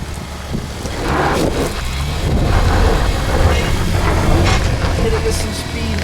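A Mercedes ML SUV takes an off-road obstacle with momentum, a loud rumbling engine and heavy wind buffeting on the microphone, with a voice speaking over the noise.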